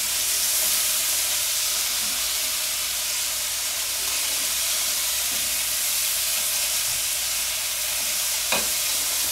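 Beef and vegetables stir-fry over medium-high heat in a pan, a loud steady sizzle and hiss running throughout with no talk.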